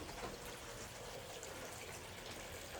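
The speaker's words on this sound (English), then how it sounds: "Little fountain in the front running. You can hear the water gurgling." A small front-yard fountain runs in a residential neighborhood, giving a soft, steady wash of trickling water heard faintly and evenly throughout.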